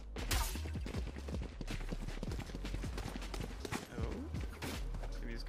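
Players fire weapons in the spawn area in the video game Valorant, producing dense, rapid volleys of sharp gunshots that run almost continuously, loud and close, with faint talk underneath.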